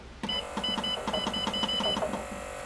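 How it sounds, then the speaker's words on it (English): A Sole E25/E35 elliptical stuck on max resistance beeps as its resistance is adjusted, giving a quick series of about a dozen short, evenly spaced electronic beeps over a low motor hum. The sound is close and moderately loud. "You hear me adjusting and beeping."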